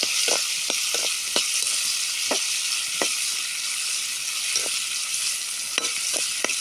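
Tomatoes sautéed in coconut oil for tomato chutney give a steady, bright sizzle with occasional light spatula taps and scrapes in the pan.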